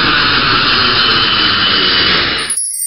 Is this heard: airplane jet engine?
yes